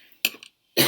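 A person with a cold coughs in short, sharp bursts close to the microphone, two quick coughs followed by a brief pause and another harsher cough, during a live watercolor painting session.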